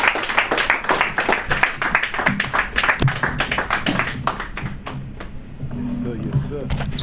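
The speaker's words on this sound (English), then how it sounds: "Clap it up." An audience claps for a speaker at a live spoken-word event, many hands in a brisk burst that gradually thins out, with voices and cheering mixed in as the clapping fades.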